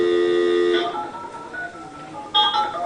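Electronic dialing tones from an elevator's emergency phone: steady tone pairs ring out loud and close for under a second, then a noisy pause, with a second burst of tones near the end.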